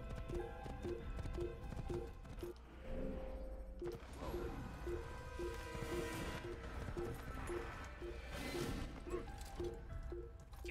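Horse hooves clip-clopping in Assassin's Creed, a steady rhythmic trot of hoofbeats repeating throughout with some clattering game sounds mixed in, fairly close and continuous.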